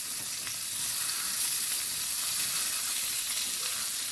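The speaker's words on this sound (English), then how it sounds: "when this sauce gets crispy or it starts frying, it makes it taste so good" Burger sauce sizzles and fries steadily on a hot griddle, a close, continuous crackling hiss with no talk.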